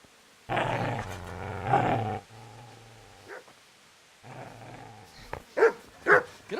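A dog growls at the player in the medieval game Kingdom Come: Deliverance, two drawn-out low snarling growls separated by a pause, followed by a few short sharp yips or barks, loud and close.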